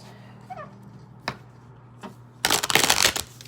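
Tarot cards shuffled in a riffling burst about two-thirds of the way through, preceded by a few quiet taps and handling sounds, close and fairly loud against a faint background hum.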